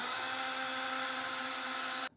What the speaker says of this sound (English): drill that pilot hole all the way through